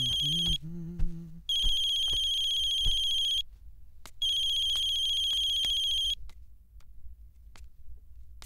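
An electronic telephone ringtone in a Hindi film trills loudly in two long bursts, with a short melodic tone before them and a low background hum.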